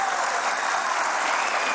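Legislators in a chamber applaud and cheer, a loud, dense, continuous roar of clapping and voices that holds steady throughout.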